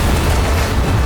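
An airplane blows up in mid-air in a dramatic scene, heard as a loud, sustained roar of blast and deep rumbling that fills the whole moment without a break.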